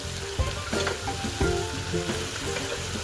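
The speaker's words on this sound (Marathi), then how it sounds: "मसाला व्यवस्थित फ्राय झाला आहे आपण आता दही टाकावे" Masala frying for a chicken dish, loud close sizzling with spoon stirring and scraping, and yogurt going in with brief bursts of sharper hissing.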